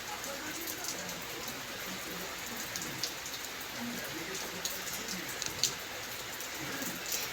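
Panch phoron and dried red chillies fry in hot oil for khichuri, giving a soft, steady crackling sizzle with scattered pops that runs unbroken throughout.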